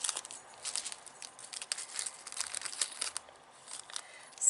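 A plastic bead subscription bag crinkles and rustles close up as it is cut open and handled, steady crackling with uneven bursts and no talking.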